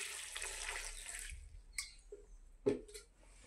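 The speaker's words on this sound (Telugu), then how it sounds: "కొన్ని వాటర్ వేసుకుంటున్నాను" Water poured into a bowl of chilli and salt, a soft running trickle for about a second and a half, then a few quiet drips and a small clink, close and without voices.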